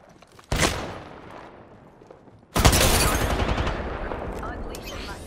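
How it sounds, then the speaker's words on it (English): Two heavy bursts of gunfire in Apex Legends, likely from a Kraber sniper rifle, each a sharp loud crack with a long rumbling tail, the second louder and followed by sustained noisy echo. "They spotted me. I'm taking shots."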